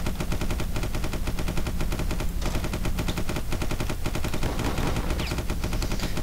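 Rapid gunfire from the Starfarer video game, a dense run of repeated shots rattling steadily and loudly throughout with no pauses and no talk.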